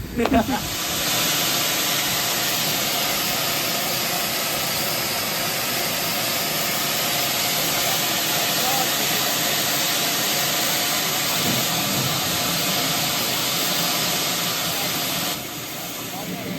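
Steam hisses loudly and continuously from a steam locomotive on the North Norfolk Railway, a broad, steady rush lasting over fifteen seconds after a brief bump at the start, easing slightly near the end.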